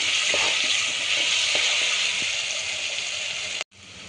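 Onions sizzle steadily in hot oil in a pan, cooking for a goat tripe curry. The loud, continuous frying hiss runs with occasional soft pops and stirring taps, then cuts off abruptly near the end.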